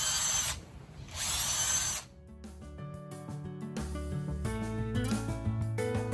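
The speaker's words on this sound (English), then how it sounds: "it wasn't too bad with this auger. It went pretty fast" A power auger drills holes in a raised garden bed for planting tulip bulbs on a cold morning, with a whirring motor that revs in bursts, then settles into a steady grinding drone that rises in pitch as it bores into soil.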